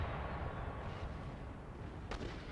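Cannon artillery booms across a battlefield in Empire Total War, distant rumbling blasts under a constant low battle din, with one sharper report standing out near the end.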